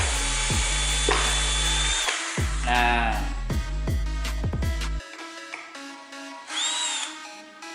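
A Black+Decker Gopak cordless drill whirs in loud bursts that start and stop, its motor speed rising and falling through each run, with a brief spoken word over it and quieter handling noise near the end.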